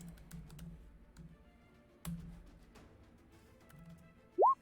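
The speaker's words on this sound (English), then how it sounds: "I keep using the wrong keyboard for this." Scattered key clicks from a computer keyboard typed in short bursts at close range, with a low hum underneath and a brief whistling tone at the end.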